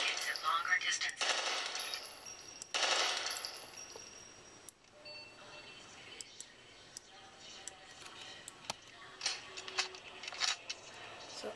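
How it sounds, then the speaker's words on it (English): Gunfire from an AR-3 assault rifle in the sci-fi shooter Interstellar Marines, with loud bursts near the start and around the three-second mark, then lighter scattered shots and metallic clicks. "Use your AR-3 assault rifle to target at longer distances."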